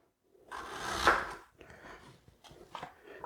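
Kitchen knife chopping off a small piece of ginger on a board, a faint close scrape and crunch followed by a couple of light taps.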